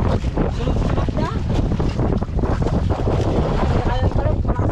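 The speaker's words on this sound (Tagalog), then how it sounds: "malakas ang hangin" Strong gusts roar and buffet the microphone continuously, with rushing noise that sounds like open water, loud throughout.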